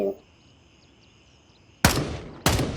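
Two sharp, loud gunshots in the video game Gray Zone Warfare, about half a second apart, break a quiet ambient background.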